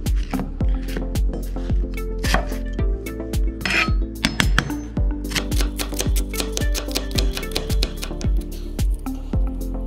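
Knife chopping through an onion on a cutting board in a kitchen, a fast run of sharp, close, rhythmic chops and clicks with some clinking against the board, no talking.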